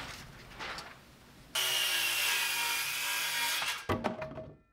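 A saw cuts through a 2x4 board to make roof ladder blocking on a workshop build. The whining, rasping cut is loud and close and runs for about two seconds, with softer handling noises before and after.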